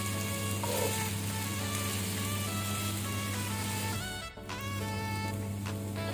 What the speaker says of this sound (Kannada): ಅಕ್ಕಿಯನ್ನು ನಾವು ಸ್ವಲ್ಪ ಫ್ರೈ ಮಾಡ್ಕೊಳ್ಳುವ ಮೀಡಿಯಂ ಫ್ಲೇಮಲ್ಲಿ